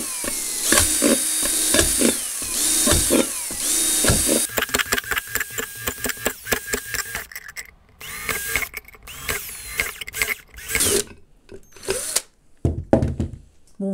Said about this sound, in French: Et donc, on perce plein de petits trous.